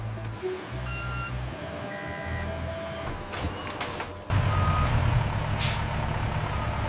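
At a papaya factory loading area, a truck reverses with a series of electronic beeps and a rumbling engine, then releases a sharp, loud hiss of air brakes near the end.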